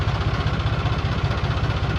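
A tractor engine idles close by, a low rhythmic chugging throb that stays even and loud the whole time.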